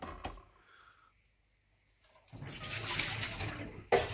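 Water is poured out of a Philips Senseo coffee machine during a repair, a loud splashing gush starting after a quiet stretch with a few clunks, followed by a sharp knock at the end.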